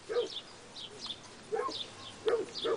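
Five-week-old puppies yip and whimper in short, high, repeated bursts, several cries coming in uneven clusters, close and fairly soft with little else around.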